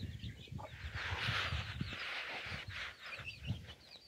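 A hen clucks in short, scratchy bursts on a rural farm, somewhat distant, with chirpy bird calls around and faint background noise.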